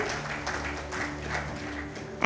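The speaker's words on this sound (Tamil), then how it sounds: "பெரிய கைத்தட்டல் கொடுத்துடலாம்" Applause from an audience at a charity event gathering, steady dense clapping over a low background hum, fairly loud and continuous for a couple of seconds.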